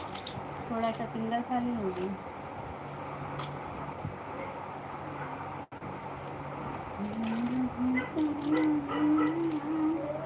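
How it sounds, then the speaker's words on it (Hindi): A dog whimpers and cries in high, wavering whines, one stretch early and a longer one near the end, while a person talks nearby. "क्या रे कुत्ते, क्यों रो रहा है तू?"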